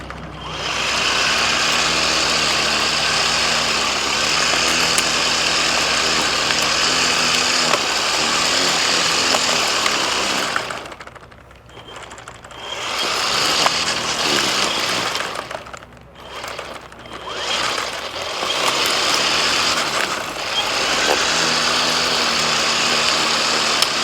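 An Echo eForce DPAS-2600 56V battery power head running with a bed definer attachment, a steady high-pitched motor whine that holds loud and close, dipping briefly twice before picking back up.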